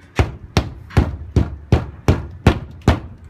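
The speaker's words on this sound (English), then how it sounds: "hit it with a shoe or a hammer or something" A hammer or shoe strikes a shelf fitting to seat it flush in a screw hole, giving eight evenly spaced, loud sharp knocks about a third of a second apart, close by and with no talking.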